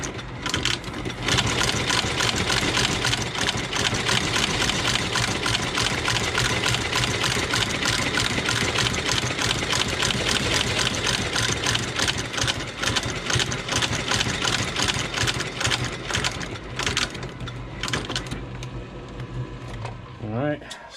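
A sole stitching machine drives a rapid, steady mechanical chatter while stitching a Frye leather boot sole, loud and close and running continuously, with speech heard over it.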